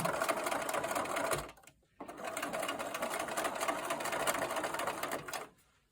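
Sewing machine stitching scrap leader fabric and quilt pieces for a five-pointed star block, a steady loud whirring run that pauses briefly midway, then resumes and stops near the end.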